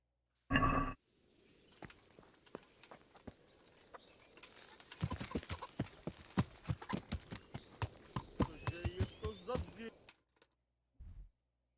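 Hooves of a horse clip-clop in the medieval game Kingdom Come: Deliverance, a sharp thump first, then a run of steady, crisp hoofbeats building to a brisk rhythm before a brief pause and a final muffled bump.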